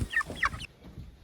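Chickens clucking close by, a few short clucks in the first half second, then quiet.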